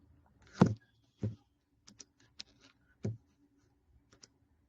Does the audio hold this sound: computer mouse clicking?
yes